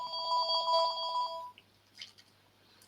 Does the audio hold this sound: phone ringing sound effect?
yes